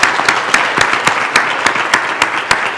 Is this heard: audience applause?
yes